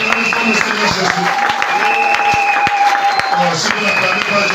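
Church congregation clapping and cheering at a Sunday service, a dense wash of applause with voices rising through it and a sustained sung or shouted tone, loud and continuous throughout.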